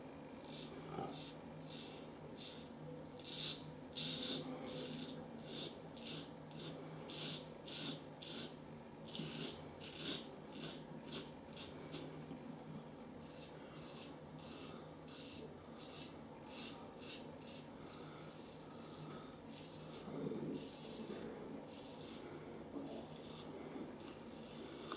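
A safety razor, an Edwin Jagger DE89, scrapes against the grain in quick repeated short strokes with brief pauses between them, close and fairly quiet, with no talking.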